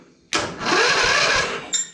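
A replacement starter motor on a ride-on mower cranks in one sustained whirring burst of about a second and a half after a short quiet start, loud and close, then stops with a brief click.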